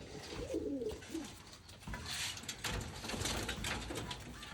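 High-flyer pigeons coo nearby in soft, throaty bursts, with some faint rustling and mechanical clatter in the background.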